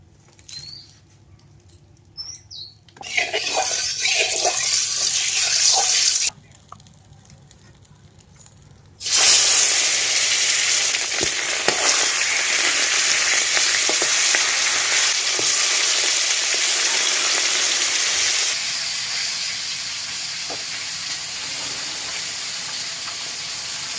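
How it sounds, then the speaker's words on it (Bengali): Fish coated in salt and turmeric fries in hot oil in a wok, bursting into a loud, sustained crackling sizzle after quieter hissing and a short pause, then settling to a steady, slightly softer sizzle. "ভালোভাবে মাছে নুন হলুদ মাখিয়ে নিয়েছি, কড়াই গরম হয়ে গেছে, তেল দিয়ে দিচ্ছি।"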